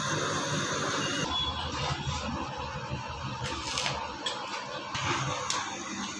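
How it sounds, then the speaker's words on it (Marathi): A gas welding torch works on steel while a trishul is being made, giving a steady close hiss and roar that shifts in tone, with a few brief sharper bursts. "गैस वेल्डिंग चालू है. Steel welding"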